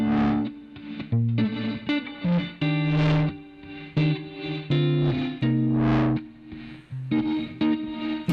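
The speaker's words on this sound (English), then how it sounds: "just the guitar on its own here, and then when we bring in this synced distortion" An electric guitar plays a melodic phrase through a Tritik Krush plugin's tempo-synced distortion, which swells rhythmically in quarter notes and gives the tone a pulsing, gritty edge. The guitar is loud and close, with no voices.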